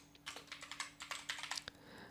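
A student's name being typed on a computer keyboard, a quick run of soft, close key taps in an uneven rhythm, no voices.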